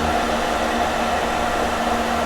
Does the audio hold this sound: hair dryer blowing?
yes